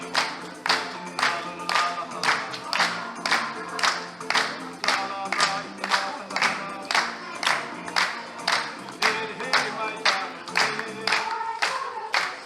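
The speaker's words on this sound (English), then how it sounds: "Come on, clap along." An audience claps along in a steady, even rhythm at a Disney show at Epcot, about two claps per second, loud and sustained with faint crowd noise underneath.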